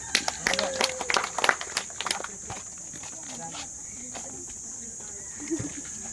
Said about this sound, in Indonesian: Tepuk tangan untuk mereka nih